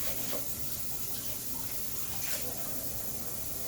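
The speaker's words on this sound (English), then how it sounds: "So we're going to go ahead and use some warm water" Warm water runs steadily from a kitchen tap into a sink while dishes and mixer beaters are washed after baking brownies, a continuous close hiss with no talk.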